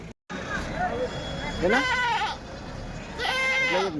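Two wavering goat bleats ring out close by at a weekly goat market in Kadiri, with adult goats and kids present, each about half a second long, separated by a pause, with people talking underneath.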